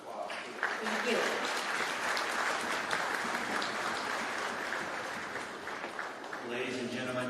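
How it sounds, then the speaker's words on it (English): Audience at a Corporate Council on Africa event in Dallas giving panelists a round of applause, a dense, sustained wash of many hands clapping that fills the room and tapers slightly toward the end. "please join me in giving a round of applause."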